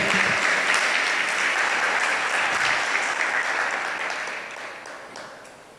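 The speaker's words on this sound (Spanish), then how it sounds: "Le das un aplauso a Dios" A church congregation applauds loudly and steadily, then the clapping gradually tapers off toward the end.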